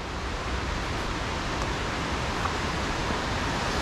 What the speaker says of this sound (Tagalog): Yan yung falls.